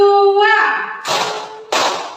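Seated teachers join a group clapping game, answering a call with two sharp bursts of claps, each one crisp and together. A voice speaks over a sustained tone just before the claps.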